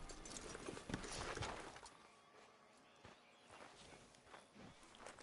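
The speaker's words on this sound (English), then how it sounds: "get that horse out of here!" Horse hooves clip-clop unevenly at a walk in Red Dead Redemption 2, faint and somewhat distant, with a few scuffs and clatters in the background.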